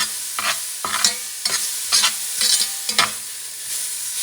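Beef shanks sauteing in a pan over medium-high heat, giving a steady loud sizzle broken by regular scraping stirs about every half second, close up with no talk.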